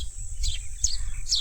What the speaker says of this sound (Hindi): तो दिन भर हमें पंछियों की आवाज़ सुनाई देती है